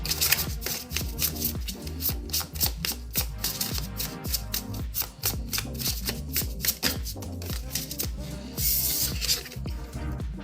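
Tarot cards being shuffled by hand, a rapid run of crisp riffling snaps and soft slaps repeating across the whole stretch, close and fairly quiet.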